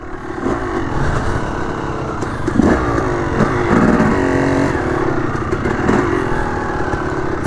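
Dirt bike engine revving steadily on a mountain trail hill climb in North Carolina, loud and close throughout with rising and falling throttle surges and some clattering.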